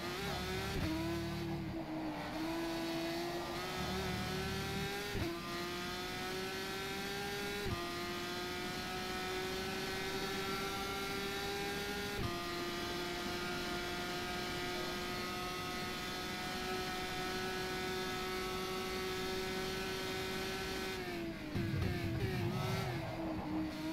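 A GP3 open-wheel race car engine in rFactor 2 at Imola screams steadily at high revs, with brief downshift dips and a gear change near the end, loud and continuous with no talk.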